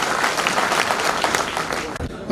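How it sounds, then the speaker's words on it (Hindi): A crowd at a welcoming event in Udaipur claps to greet a guest taking the stage, brisk close applause for about two seconds with voices mixed in, ending abruptly. "मंच पर विराजे, तालियों से स्वागत करावे आप।"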